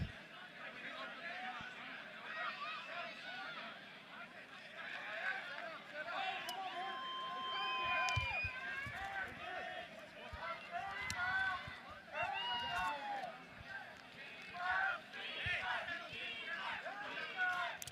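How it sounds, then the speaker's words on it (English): A crowd at a rugby national championship match between the Jacksonville Axemen and the North Bay Dead Pelicans chants and shouts from a distance, with a busy mix of voices rising and falling under nearby talk. "Got the crowd chanting on their feet."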